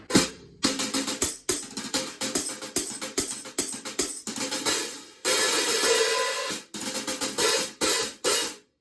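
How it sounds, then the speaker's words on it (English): A 10-inch Meinl Byzance Traditional hi-hat is played alone in crisp, quick strikes, some open and sustained washes, others short dry chicks, forming a loose rhythmic pattern, close and clear. "This is also by Meinl Byzance Traditional hi-hat, and it's 10 inches."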